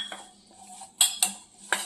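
A metal spoon clinks against a bowl while chopped green chillies are mixed with salt and spices, a few sharp close taps over soft stirring.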